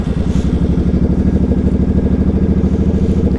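A 2006 Suzuki Boulevard C50T fuel-injected cruiser motorcycle idles up close with a loud, even, low thumping pulse that holds steady throughout.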